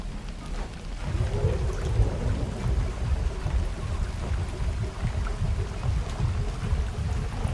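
A loud, overheating engine from Baldur's Gate 3, with a dense, steady low rumble that crackles and churns throughout like a heavy storm, with no voices over it.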